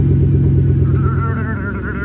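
A BMW E46 exhaust gives a deep, steady growl up close and loud, and the pitch rises a little as the engine revs.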